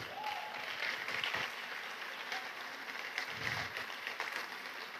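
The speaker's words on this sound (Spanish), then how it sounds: "un fuerte aplauso" A church congregation claps for the women of the prayer ministry, steady, fairly faint applause spread through a room, continuing evenly without voices.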